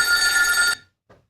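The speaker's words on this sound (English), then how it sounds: "Okay, it's ringing." A telephone bell rings loud and close in one sustained metallic burst, then stops, and a faint brief second ring starts just after.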